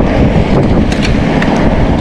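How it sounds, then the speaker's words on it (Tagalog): Strong wind buffets the microphone in a continuous, loud rushing roar with gusty fluctuations, while cycling along a flat highway during a gravel bike ride. "Wow, ang hangin."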